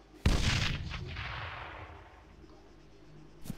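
A grenade explodes with a single sharp, loud blast in the Arma 3 military game, followed by a long rumbling decay and a faint second thump at the end.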